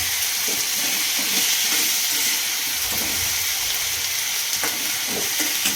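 Green chillies and garlic roast in a hot pan for a yogurt chilli chutney, giving a steady, loud hiss and sizzle with faint crackles and occasional stirring scrapes, no voices.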